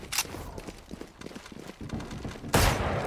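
Video game gunfire in a shooter: a few sharp shots and a quick burst of rapid pops, followed by a loud blast near the end, with busy clatter in between and no talk.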